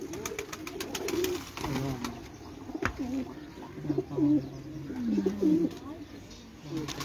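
Racing pigeons coo repeatedly from close by in low, rolling phrases, with occasional faint chirps and a sharp knock partway through, all at a pigeon loft where champion birds are kept.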